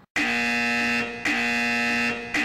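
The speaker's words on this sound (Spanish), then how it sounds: "¡La alarma!" A harsh electronic alarm buzzes in a cartoon, loud and near, in two long pulses separated by a brief break, with no voices over it.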